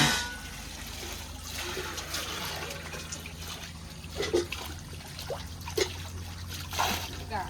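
Water runs while a household tank is being filled, a steady trickling splash that swells in a few louder gushes, with voices heard faintly in the background.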